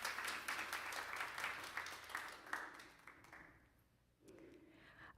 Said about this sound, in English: You can clap, yeah.